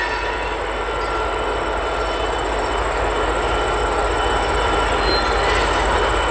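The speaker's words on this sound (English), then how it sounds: "And that train is on its way now." A train rolls slowly past, its wheels squealing with a steady high-pitched screech over a continuous loud rumble of railcars, heard up close with no speech.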